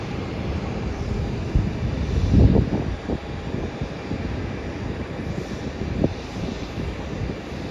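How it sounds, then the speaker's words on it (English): Virgin Australia Boeing 737 departing Melbourne airport on a Melbourne to Brisbane flight: a steady, distant broadband jet roar runs throughout, with a brief swell in loudness partway through and no talking. "The next flight to depart is going to be a Melbourne to Brisbane flight, Boeing 737 by Virgin Australia."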